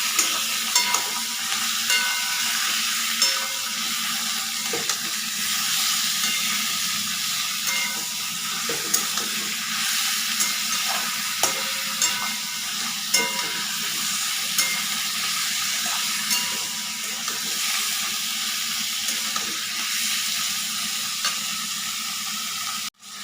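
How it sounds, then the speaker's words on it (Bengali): Chicken frying in a pan for a yogurt chicken dish, stirred throughout: a steady, loud sizzle with soft scraping stir strokes scattered through it, and no voices. "নাড়াচাড়া করে চিকেনটা একটু ভেজে নেব।"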